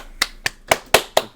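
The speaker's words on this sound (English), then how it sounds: "Boba Fett's clapping too." Five sharp, separate hand claps land at a slow, slightly uneven pace, close and crisp with quiet gaps between them.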